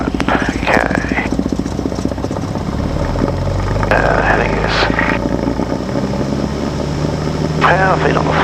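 A Cessna 172 light aircraft engine runs at takeoff power, a loud continuous droning roar that fills the cabin, with radio chatter and cockpit talk breaking in over it.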